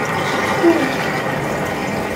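Water pours steadily into a 4 ft aquarium, a continuous close splashing and trickling wash with a brief bubbling gurgle partway through.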